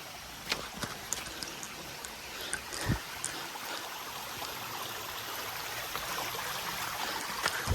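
A small hill waterfall stream on a trek route in the Alikadam area of Bandarban runs with a steady, faint rushing wash. Occasional light knocks sound nearby, and no one talks.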